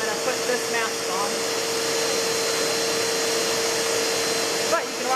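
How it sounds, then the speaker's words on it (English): A spindle sander runs steadily with a dust suction hose attached, a loud continuous whir and hiss with a constant motor whine and occasional faint shifts in pitch as wood is worked. "I'm gonna use my spindle sander, and I have the suction hooked up to it"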